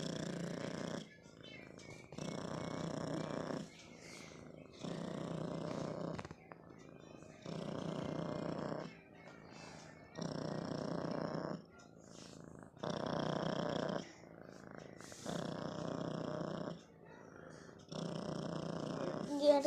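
A cat purring close to the microphone in long, even rumbling bursts, about eight of them, with short pauses for breath between. The low, steady drone is likened to a running generator.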